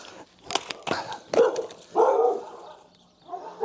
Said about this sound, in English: the dogs are all kicking off now